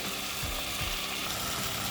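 Mutton and potatoes fry in a kadai with a steady, dense sizzle that fills the background, a few soft low knocks breaking through near the start.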